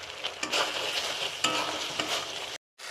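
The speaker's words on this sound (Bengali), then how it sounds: "মশলাটা কষানো হয়ে গেছে" Ground turmeric, red chilli and Kashmiri chilli masala with a little sugar stir-frying in a pan for butter paneer masala, a steady close sizzle broken by spoon scrapes and a brief silent gap near the end.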